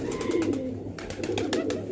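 Pigeons coo steadily through a two-second stretch, a soft continuous murmur from a loft of colourful fancy pigeons, fairly close and moderately loud, with a few sharper flutters or calls near the end.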